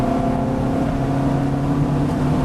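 A Ferrari F430 race car accelerates under load and shifts up a gear, a loud, sustained engine drone with steady harmonic tones filling the whole moment, with no voices.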